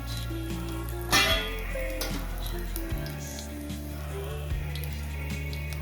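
Onion-tomato masala paste sautés in a kadhai with a soft, steady sizzle and crackle, heard under low tones and background hum, with a few louder spits and no speech.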